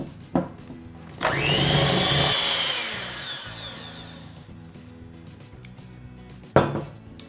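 A mixing bowl of pumpkin roll frosting with powdered sugar is scraped around its sides, giving a scraping, whirring pass with utensil clinks and knocks against the bowl, close by and with no voices.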